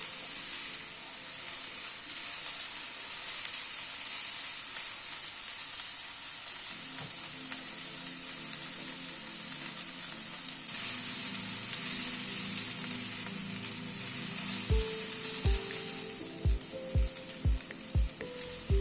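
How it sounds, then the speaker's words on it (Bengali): Onion lightly frying in oil in a pan for a vegetable curry to eat with roti, a steady close sizzle and hiss throughout, with a spoon scraping and stirring in quick strokes near the end. "পেঁয়াজটাই মিনিট 2 মতো একটু নাড়াচাড়া করে নিলাম। দেখুন পেঁয়াজটা কিন্তু একদম হালকা ভাজা হয়েছে।"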